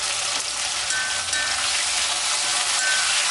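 Onions and tomatoes fry in a pan for prawn masala, a steady bright sizzle that stays close and constant, with faint stirring clinks now and then and no voices.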